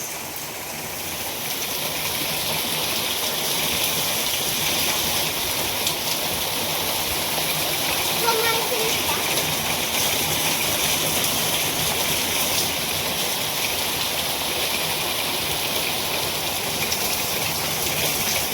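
Heavy rain falls in a rural Andhra village, a dense, steady roar that holds at the same loudness throughout with no voices.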